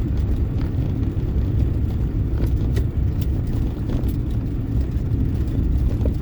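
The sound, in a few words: EV-swapped Geo Metro driving in third gear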